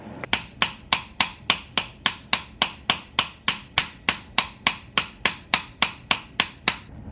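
A hammer drives a new bearing onto a transmission sleeve: about twenty sharp, ringing metallic strikes in a steady, evenly spaced rhythm of roughly three per second, close and loud, with no talk.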